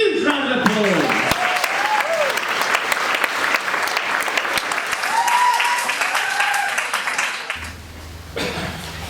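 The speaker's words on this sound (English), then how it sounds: "give yourselves a huge round of applause" A theatre audience at a murder-mystery performance bursts into loud, sustained applause with scattered cheers and voices, continuing strongly before dropping off near the end.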